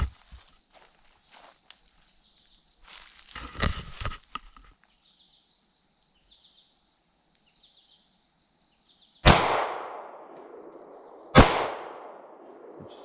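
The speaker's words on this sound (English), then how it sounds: "draw your weapon when you're ready and fire 2 rounds" Two sharp, loud shots from a Ruger LC9 pistol fired by a woman, about two seconds apart, each with a ringing decaying tail; quieter rustling and handling noises come before them.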